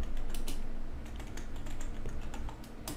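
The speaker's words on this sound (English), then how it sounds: "Y'all might hear my keyboard" Rapid clattering keystrokes on a computer keyboard while gaming, dense and close, a steady busy rhythm of clicks throughout.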